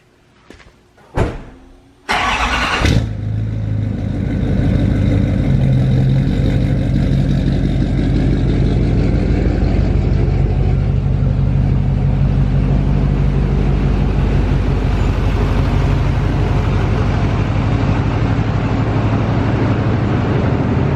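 A car with custom billet floater wheels starts with a few sharp door or mechanical clunks, then its engine runs loudly and steadily, close by, as it drives out of a garage.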